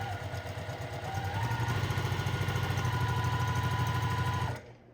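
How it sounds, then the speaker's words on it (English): A sewing machine stitches patchwork fabric along a diagonal seam, humming with a fast, even rhythmic whir up close for several seconds before stopping abruptly, with no talk. "And right now I'm just sewing one side of those because we need to sew on both sides of that diagonal mark."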